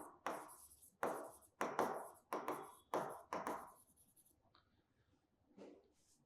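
Chalk or marker writing on a board during a physics lesson: about six firm scratchy strokes in a quick uneven rhythm, each a short tap and scrape, followed by quieter faint writing, close and with no voices.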